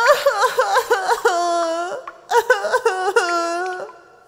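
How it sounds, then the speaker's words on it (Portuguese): Child sobbing in an animated Pinocchio cartoon, set inside a fish's stomach: loud, close, hiccuping wails in two bursts with sustained crying tones, no other voices. "Ele ouviu uma criança chorando."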